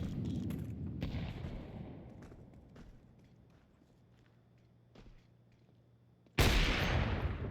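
Counter-Strike 2 match with scattered gunfire and footstep-like thuds under a low rumble, then a loud sudden burst near the end as an incendiary grenade lands and flares.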